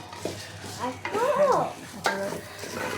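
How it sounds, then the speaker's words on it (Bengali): Biryani masala with green chilies and cloves fries in a pan, a close sizzle mixed with scraping stir strokes and utensil clatter while a voice talks over it. "কাঁচামরিচ দিব, তারপর লং দিব, দিয়ে তারপর এটা ভাজবো।"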